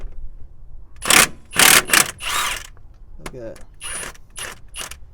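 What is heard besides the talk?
Milwaukee 2763 half inch impact wrench breaking loose crank bolt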